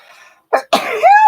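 A single close, loud sneeze bursts out after a short quiet stretch, opening with a quick sharp intake and ending in a tonal, drawn-out exhale, near and alone with no other talk.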